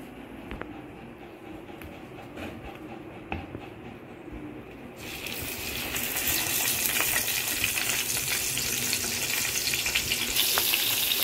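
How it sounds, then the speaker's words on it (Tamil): Banana-leaf wrapped kizhi parotta parcels fry in oil on a dosa griddle, a steady sizzle that grows louder and brighter about halfway through and then holds as a dense, continuous hiss. "இதை அப்படியே தூக்கி தோசைக்கல்ல வச்சுட்டு வேண்டியதான் எண்ணெயில்."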